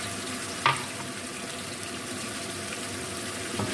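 Onion with garlic and ginger paste sizzles steadily in a pan, a constant close hiss of frying with one brief clink of a utensil near the start and no talking.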